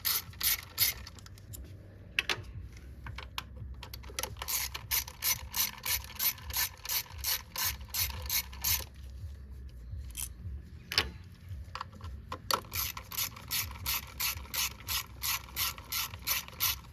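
Ratchet clicking as a 10mm valve cover bolt is loosened on a Toyota 3.4L 5VZ-FE V6. Rapid, even bursts of close, loud metallic clicks repeat through the clip, with a short pause in the middle.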